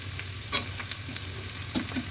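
Cabbage stir-fries in a pan for chowmein, giving a steady low sizzle and a few short scraping stirs of a utensil, quiet and close, with no talking.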